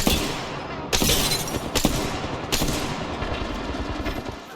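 Sustained automatic gunfire from an Apex Legends battle, loud and close, with sharp bursts standing out around the first and second seconds over a continuous rattle of shots and impacts.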